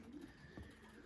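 Racing pigeons coo softly in a loft, with a low murmuring coo and a brief bubbling call near the middle, faint and close.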